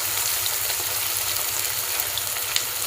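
Tuna fish fries in a pan with a steady, dense, close sizzle of hot oil, evenly loud throughout, with a few tiny pops and no voices.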